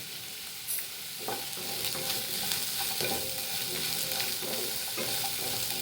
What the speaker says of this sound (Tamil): இது நல்லா வறுபடட்டும்.